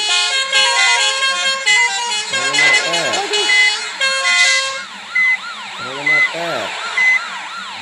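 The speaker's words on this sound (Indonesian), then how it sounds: "kasih jalan, ambulan tuh kasih jalan." A wailing ambulance siren sweeps up and down repeatedly, loud and close, heard from a bus in Indonesian traffic, with car horns honking and people talking over the traffic.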